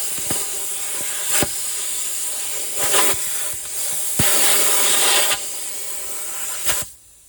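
A tire inflating on a worn vehicle gives a steady, loud broadband hiss of rushing air. It swells in several bursts over a few seconds and cuts off near the end.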